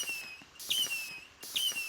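A small TNT artillery firework goes off twice in quick succession, each burst a short whistling crackle heard close by with a high whine running through it.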